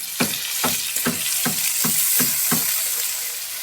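Ginger and garlic fry in a pan. The sizzle is bright and continuous, broken by about seven regular scraping stirs, and there is no talk.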